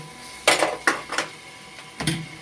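A spoon clinks and scrapes against a pot while vegetables with chilli, turmeric and coriander-cumin are stirred for pulao, four or five sharp metallic knocks in quick, uneven succession.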